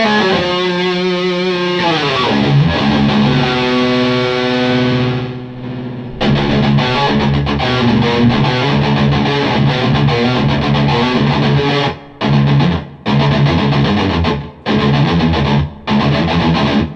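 Electric guitar played with light picking through a distorted amp with a noise gate and reverb pedal in the effects loop, sustained chords and picked phrases that cut off abruptly into silence between notes, loud and alone.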